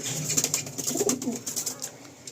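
Madrasi pigeons coo in soft, overlapping pulses close by, the rhythmic throaty calls filling the short stretch with a steady, gentle murmur.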